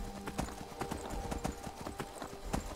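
Horse hooves clip-clop in the video game Skyrim, a quick irregular run of sharp hoof knocks close up at moderate volume, with faint background sounds and no clear speech.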